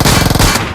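Rapid automatic gunfire from the mobile battle royale game BGMI rattles in a loud, dense burst of shots that fades out at the end.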